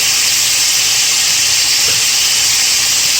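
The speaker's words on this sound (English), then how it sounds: "And you just let that simmer there." Puerto Rican stewed chicken simmering in a pot gives a steady, loud hiss with a faint bubbling texture, unbroken and alone for the whole stretch.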